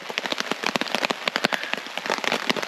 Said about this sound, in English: this wind and rain's kicking my ass everywhere